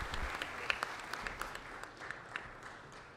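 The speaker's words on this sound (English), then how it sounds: "Let's give Marisol another round of applause." A small audience at a city council meeting gives a brief round of applause, faint and thinning out as the claps fade.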